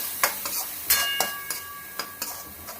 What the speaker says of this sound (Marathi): आता त्यात आपण टोमॅटो घालून देऊया आणि पूर्ण मऊ होऊन जाऊ देऊया